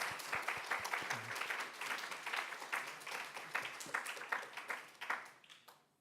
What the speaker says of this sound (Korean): 너무나 귀하고 감사한 일을 하는 우리 방송팀에도 박수 한번 할까요?